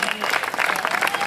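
Short, lively crowd applause at an outdoor trail race podium ceremony, many hands clapping at once, fairly near and continuous for just over a second.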